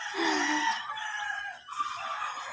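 Chickens on a backyard farm, with a mother hen eager to get in among them, produce clucking and crowing-like calls that rise and fall continuously over a couple of seconds, fairly close.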